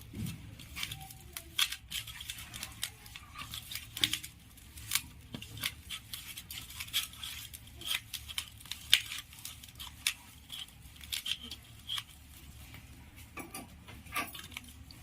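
Chhena kneaded by hand with sugar and cardamom powder for rasgulla, producing soft irregular squishing, tapping and light clicking noises at close range, without speech.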